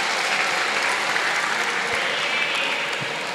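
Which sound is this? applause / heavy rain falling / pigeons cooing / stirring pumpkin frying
applause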